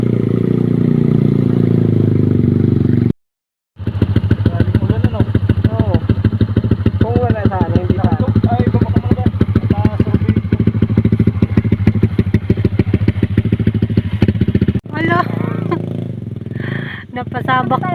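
A motorcycle engine idles and revs with a steady, rapid clattering pulse during a mountain ride, close and loud, briefly cut out near the start, with people talking over it toward the end.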